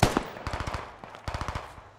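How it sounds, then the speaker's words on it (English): Two rapid bursts of automatic gunfire in the video game Squad, each a quick string of sharp shots, sounding fairly close with a short pause between volleys. "That's gunfire north."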